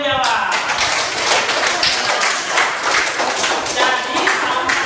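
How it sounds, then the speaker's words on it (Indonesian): Students clapping in an elementary school classroom, a dense steady patter of hand claps lasting the whole stretch, close and fairly loud. "tepuk tangan dulu untuk yang menjawab"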